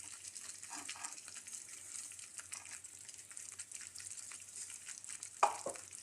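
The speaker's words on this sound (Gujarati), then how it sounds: "જો આમાં હવે બબલ્સ આવવા માંડ્યા છે" A red chilli pickle mixture bubbling as it cooks in a pot, a faint continuous hiss with soft popping and one brief sharper clack near the end.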